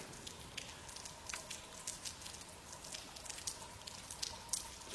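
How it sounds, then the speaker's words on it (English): Rain falls outdoors as a faint, steady patter with scattered brief droplet ticks and light crackles across the whole stretch, no voices present. "Too bad it's raining."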